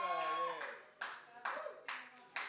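A few sharp, evenly spaced hand claps from a church audience, faint and sparse, following a sung or spoken voice at the start.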